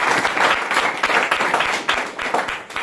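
Applause from an audience at a division-level Urdu speech competition in a Bannu school: dense, steady clapping throughout, loud and close, with faint crowd murmur underneath.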